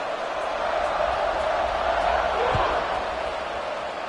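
A football stadium crowd at a Georgia Tech game keeps up a loud, steady roar with no breaks, a dense wash of many voices from the stands.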